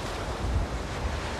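Ocean surf against the Guyana coastal seawall, a steady broadband rush of breaking waves with gusts of wind buffeting the microphone and no voices.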